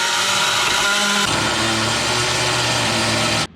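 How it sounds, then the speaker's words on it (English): A drill fitted with a carbide bit grinds out a hole during an intercooler install, making a steady, gritty motor whine that holds for several seconds and then cuts off abruptly. "once you grind the hole out a little bit"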